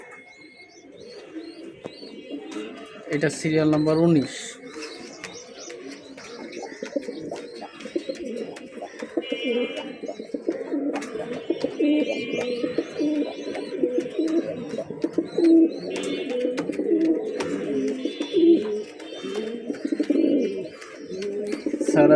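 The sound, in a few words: pigeons cooing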